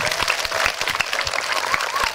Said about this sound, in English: let me see you clap your hands. The person that is clapping louder, the person that is clapping loudest.